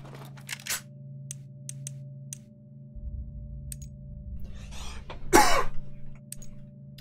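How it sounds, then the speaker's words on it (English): A streamer playing The Last of Us gives a short, sharp cough close to the microphone midway through. A low steady hum lies underneath, with a few faint clicks and a rustle earlier on. "I probably should have just muted the mic for that cough"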